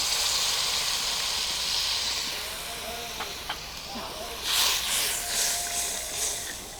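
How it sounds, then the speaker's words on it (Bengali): Water simmering and bubbling in a cooking pan while a Bengali eggplant and small hilsa mustard curry is prepared, a steady soft hiss with faint crackles and brief louder sizzling bursts toward the end. "জলটা ফুটে উঠেছে"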